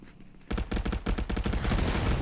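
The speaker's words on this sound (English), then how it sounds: "Frag grenade finds Zeus on the point." A frag grenade goes off in the VR shooter Contractors during a competitive match, a quiet lead-in giving way to a loud burst and a rapid run of sharp, rattling blasts that keep going to the end.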